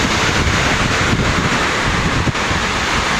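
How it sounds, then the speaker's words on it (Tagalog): Strong typhoon wind batters a phone microphone, a loud, roaring buffet of rumbling gusts that fills the whole clip with constant noise. "sobrang lakas ng hangin na tumatama dito sa ating cellphone"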